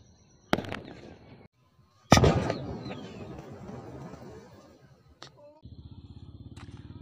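Two sharp sutli firecracker bangs, set off with petrol, the second a loud blast followed by a long crackling, rumbling tail, then a steady engine-like putter.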